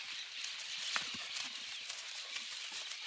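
Horse hooves clip-clopping at a moderate distance, a steady run of soft hoofbeats over light background noise, from a bay horse being shown for sale.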